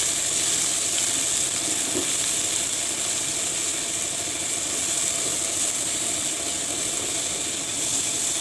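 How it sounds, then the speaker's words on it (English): Garlic, shallot, red and green chilies, tomatoes and spring onions fry together in a pan, a steady even sizzle with faint stirring, moderately quiet and without talk. "The third step is to fry the garlic and shallot together."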